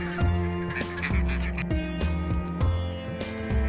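Water birds at Thol Lake near Ahmedabad, Gujarat, keep up a loud, steady stream of overlapping honking and quacking calls that repeat in rapid bursts.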